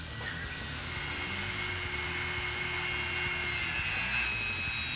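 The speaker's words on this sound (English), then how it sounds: "We're going to cut off the Schrader valve of the inner tube with a Dremel." Dremel rotary tool cutting the Schrader valve off a rubber inner tube, a steady high-pitched whine with grinding hiss that holds evenly and swells slightly over five seconds, with no voices.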